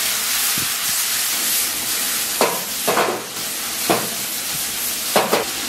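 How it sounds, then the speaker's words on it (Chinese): Minced pork stir-fried in a wok with scallion, garlic and dried chili as soy sauce goes in: a continuous loud sizzle and hiss, with several sharp bursts of spatula scraping against the wok. "煸炒差不多，咱们给里边来点生抽"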